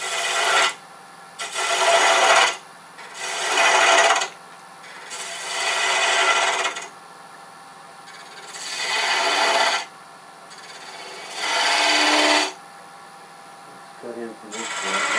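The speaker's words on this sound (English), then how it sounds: "Go back to a regular spindle gouge and just get rid of some of this wood" A spindle gouge cuts wood spinning on a lathe in repeated bursts of loud, harsh shaving and rasping, each lasting a second or two, separated by quieter gaps of the lathe running.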